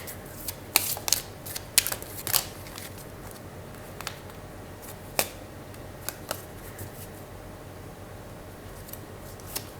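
Tarot cards shuffled and drawn by hand, heard as scattered soft riffles, flicks and slaps against a quiet background, close and without talk.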